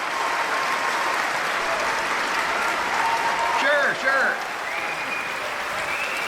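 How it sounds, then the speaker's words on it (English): Audience at a comedy show giving steady, dense applause with a crowd murmur beneath, as a voice briefly speaks over the clapping partway through. "Give yourselves a round of applause."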